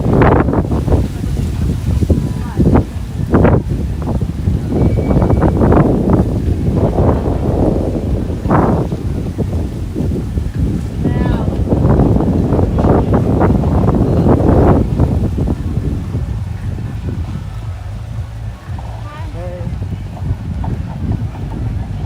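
Wind buffets the microphone at the beach club in Bimini, Bahamas, a loud, gusty rumble that swells and eases over about twenty seconds, with voices mixed in underneath.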